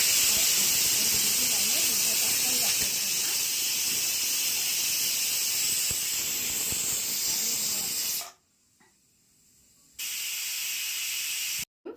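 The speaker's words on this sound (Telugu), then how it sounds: "5 విజిల్లు అయినాయి కదా," A loud, sustained hiss of steam escaping from a pressure cooker valve after five whistles while cooking drumstick and tomato curry, cutting off suddenly for a couple of seconds before resuming.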